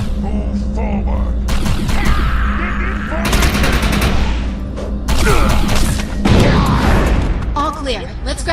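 Suppressing gunfire in the shooter Defiance 2050, with loud machine-gun bursts and heavier thumps and booms layered over continuous battle noise, while voices shout over the shooting.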